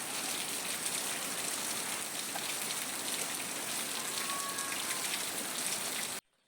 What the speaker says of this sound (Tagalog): Kinahapunan ay biglang umulan pero hindi naman ganun kalakas